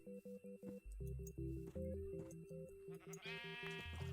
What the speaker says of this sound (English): I certainly don't care about all these sheep.